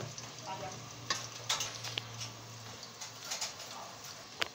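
Two medium onions frying in a pan for a mutton liver dish give a soft, steady sizzle with a few sharp clicks and stirring knocks over several seconds.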